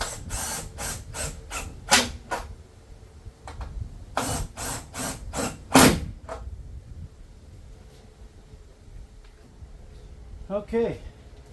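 Screws being driven back into a 2013 Toyota Prius tail light assembly, heard as a series of sharp clicking, ratcheting bursts in two clusters, close and fairly loud, with a faint voice briefly near the end.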